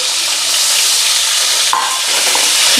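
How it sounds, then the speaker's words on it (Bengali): Cauliflower and potato pieces, with tomato and cumin, fry together in a pan over a low to medium flame, giving a loud, steady, close hiss of sizzling with faint stirring and one brief clink. "লো টু মিডিয়াম ফ্লেমে এই ফুলকপি আলুটা ভাজা ভাজা হবে।"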